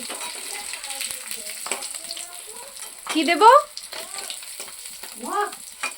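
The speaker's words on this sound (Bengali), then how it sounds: "এখন মাছ ভাজা করছে গরম গরম মাছ ভাজা খাবো পুকুরের মাছ ছোট ছোট মাছ" Small pond fish fry in hot oil with a continuous close hiss, a few stirring clicks, and brief voices speaking over the sizzle.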